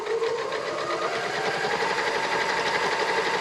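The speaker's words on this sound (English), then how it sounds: "and then just sew straight across the bottom." A sewing machine stitches straight across the bottom of a laptop bag through several fabric layers, a steady fast mechanical whir and rapid needle patter heard up close with no talking.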